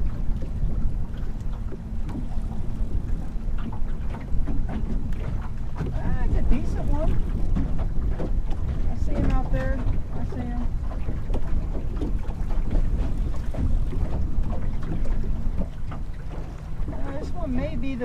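Wind buffets the microphone on a small fishing boat on a fast-current river while catfish fishing, a constant rough rumble under intermittent talk from people aboard.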